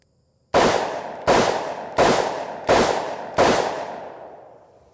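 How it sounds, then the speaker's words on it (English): Five sharp revolver shots from a custom Ruger GP100, fired in a steady rhythm about three-quarters of a second apart. Each crack is loud and close and trails off in a decaying echo. "I don't advocate that you shoot ammo like this in a gun like this."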